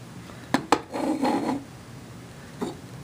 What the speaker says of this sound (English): It makes a little annoying noise when it rattles around within the closed area.